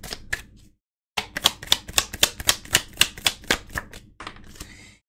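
Tarot cards are drawn and riffle-shuffled by hand at close range: a brief flick, a pause, then a rapid run of crisp rhythmic card snaps ending in a soft ruffle.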